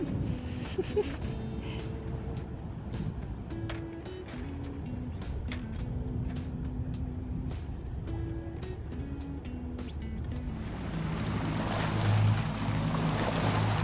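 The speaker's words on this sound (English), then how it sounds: "the local rowers will wait out there for the lifeboat to bring guests to shore so that they can ride their wake in" A lifeboat motoring through the sea near Tahiti as local rowers ride its wake, a steady engine drone and water rush that swells louder and splashier toward the end, with no talking.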